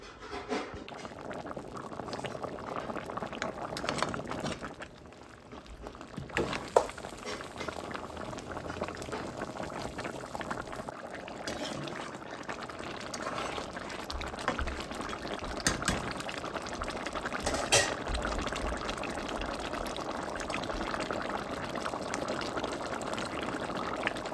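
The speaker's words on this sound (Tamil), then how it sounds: "இப்போ மூடி அவிய விடுவோம்." Continuous low bubbling of mutton curry simmering in a covered pot, a steady muffled churn with occasional faint clicks, no talking.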